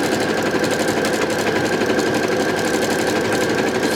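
A sewing machine stitches fabric to gather it for a ruffle, a fast, even mechanical whir and rattle running nonstop at close range, with no talking.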